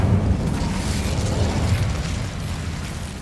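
A fire spell, Incendio, cast in the Hogwarts Legacy video game, giving a dense, steady burst of flame and rumble that fills the clip at close range, loud and without speech.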